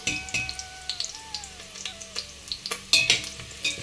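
Onions frying in a pan for a vegetable biryani, a soft bubbling sizzle punctuated by repeated scrapes and clinks of a stirring spoon, close and fairly loud with no talk.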